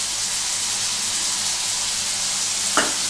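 Boneless chicken with Kashmiri chilli powder, black pepper and ginger-garlic paste sizzling steadily in a pan, a constant close hiss with one brief scrape of a spatula near the end.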